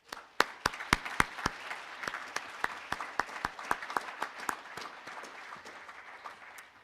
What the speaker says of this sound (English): I'd love to give them a quick round of applause